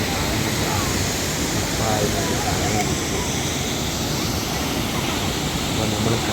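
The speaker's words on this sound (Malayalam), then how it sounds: "അതിരപ്പള്ളി വെള്ളച്ചാട്ടം" Athirappilly waterfall in Kerala roars as a loud, steady wash of broadband noise that holds constant from start to finish, with no pauses or breaks.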